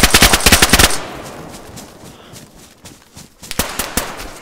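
Rapid automatic gunfire rings out in the survival video game DayZ, a loud close burst of shots at the start, then a quieter rumbling stretch before another volley of shots near the end.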